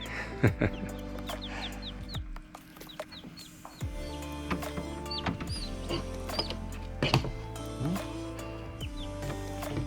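A newly hatched, day-old Barnevelder chick gives a series of short, high peeps close by, over a steady low hum from an incubator or the room.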